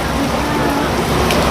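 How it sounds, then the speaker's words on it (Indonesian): Heavy rain pours down outdoors in a constant, dense hiss that fills the whole moment, with voices barely noticeable beneath it. "Nah kita akan melewati hujan ini ya bro ya."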